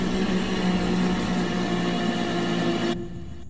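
A blender whirs steadily at a constant, loud pitch for a few seconds blending jambo fruit with condensed milk, then cuts off abruptly, leaving a faint low hum.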